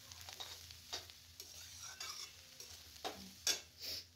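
Ginger and cumin powder stirred and sautéed in a pan for a Bengali cabbage and rohu fish dish, a soft steady sizzle broken by several brief scraping stirs of a spatula, close and fairly quiet, with no talk.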